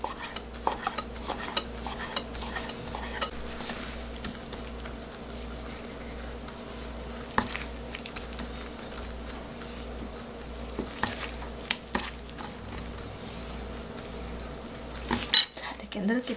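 Repeated soft knife cuts and clicks against a board slicing rolled raw beef, irregular and close, over a low steady hum.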